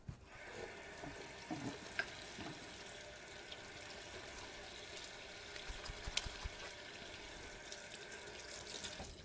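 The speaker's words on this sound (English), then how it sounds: "So I'm going to wash my hands" A kitchen tap runs steadily while hands are washed under it during baking. The continuous splashing stays close and fairly loud, with faint clinks and no speech.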